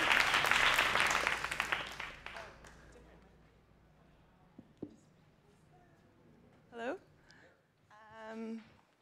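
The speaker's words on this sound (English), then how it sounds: "So one more round of applause for Annie" An audience at a live bio summit session breaks into dense, loud applause that fades over several seconds, leaving a quiet room with a few scattered sounds and brief murmurs.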